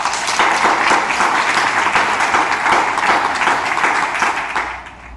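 A church congregation applauding during a deliverance prayer service, dense rapid clapping from many hands, loud and sustained before tapering off at the end.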